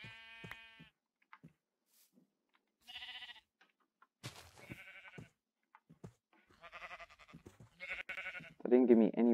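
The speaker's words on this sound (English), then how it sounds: "Oh, look, more sheep." Sheep in the Minecraft video game bleat in several short separate calls spaced through a quiet stretch, the last one louder and fuller, with a player talking between them.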